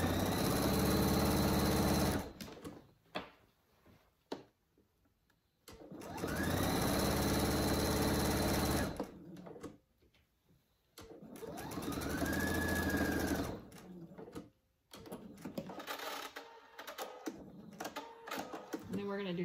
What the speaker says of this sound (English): you're going to start back stitch, go all the way down to the end, and then back stitch, and then stop.